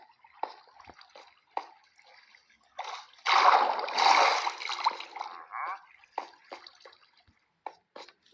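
Splashing and sloshing as a character plunges into water in the Minecraft video game, a burst of watery churning lasting a couple of seconds amid scattered drips and small clicks, with brief game sounds before and after.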